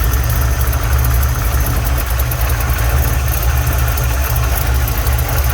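A Holden HQ car engine idles loud and close in a steady, rumbling rhythm with a slight lean roughness, running unbroken throughout with no speech.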